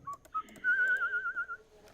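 A person whistles a short melody at close range: two brief chirped notes, then a longer wavering, warbling tone lasting about a second, alone without talk.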